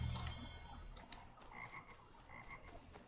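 A chorus of frogs croaks in the video game Assassin's Creed 3 Remastered, repeated pulsing calls at moderate distance over a low ambient hum, with no voices.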